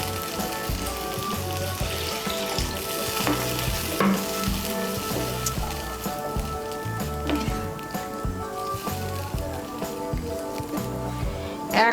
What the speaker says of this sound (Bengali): আমি এর মধ্যে 2 কাপ জল দিচ্ছি।